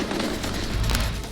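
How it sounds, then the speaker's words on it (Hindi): Gunfire fired into the air to scare protesters at an anti-Taliban demonstration in Afghanistan, a loud dense burst of overlapping shots and cracks over continuous crowd noise and rumble, with no clear speech. "प्रदर्शनकारियों को डराने के लिए आसमान में दागी गई गोलियां"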